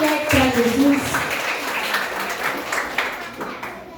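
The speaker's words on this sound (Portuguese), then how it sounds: "Receba o servo do Senhor com as palmas bem alegres para Jesus." A church congregation claps over a few seconds while voices carry over the start, with scattered, uneven claps fading out toward the end.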